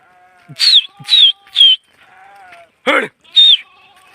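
Several sheep bleat close by, a handful of wavering calls in quick succession with short pauses between them.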